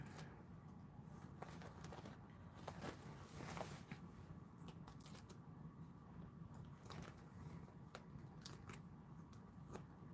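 Scissors trimming a custom piece, quiet snipping and cutting sounds in a soft, close, fairly still room with faint handling noise between cuts.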